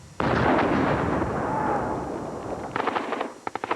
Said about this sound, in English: First, a mortar blast.